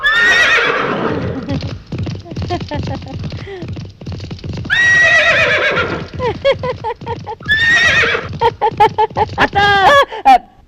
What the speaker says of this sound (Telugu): నీ అరుపు రేసు గుర్రం సకిలింపులా వినిపించిందిరా